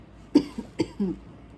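A few short, close coughs in quick succession, a sharp burst followed by smaller ones, then quiet.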